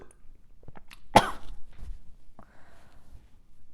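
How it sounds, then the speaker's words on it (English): A single sharp, close cough, brought on by a burp, bursts out from near silence, followed by faint throat sounds and quiet rustling. "the essence of your burp just like got caught in your throat and it made you cough"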